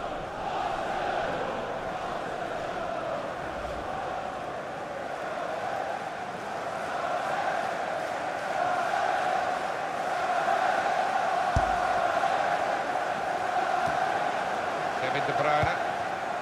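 Crowd noise from a simulated Arsenal v Manchester City Premier League football match, a steady broad roar of jeering fans sustained throughout with commentary over it.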